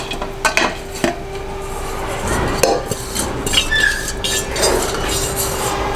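Chopped cabbage dropped into a pressure cooker for a Telugu cabbage-coconut stir-fry, giving clattering clinks and soft thumps of metal cookware in a kitchen, a few sharp knocks early then a muffled rustling spill.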